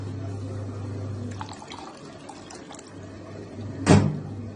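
Water poured into a pot of Egyptian-style rice on a kitchen stove, a brief close splash and gush near the end that stands out over a steady low hum, with faint clinks before it.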